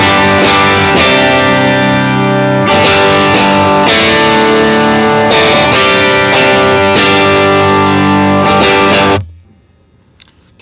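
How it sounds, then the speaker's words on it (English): An electric guitar played through a Morning Glory overdrive pedal with gain added rings out in loud, sustained distorted chords changing every couple of seconds, then cuts off and fades to near silence. "we're going to add some gain, so we're going to add the Morning Glory"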